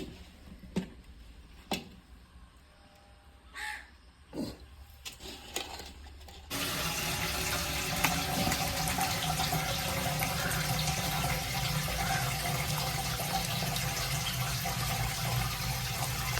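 Water gushes steadily from a tap while ghee is washed, a loud continuous rush after a few seconds of quieter clinks and handling sounds.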